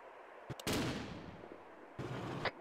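Two sharp, booming gunshots in ArmA 2: Operation Arrowhead, about a second and a half apart, each trailing off with a short rumbling echo, no talking.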